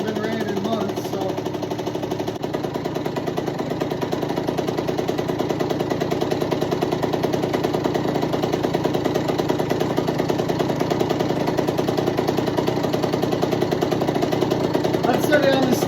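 A Cobra CX50 motorcycle engine, unused for months, idles steadily while warming up at a low, even putter, running close and unchanging throughout with no pauses.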